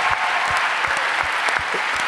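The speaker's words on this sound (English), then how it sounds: "I would love a round of applause for Ian Abercrombie" A large fan convention panel crowd applauds for actor Ian Abercrombie, a loud, dense, continuous wall of clapping with a few sharper individual claps standing out.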